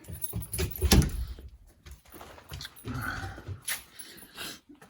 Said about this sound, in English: Let me let the dog in. Come on in, buddy.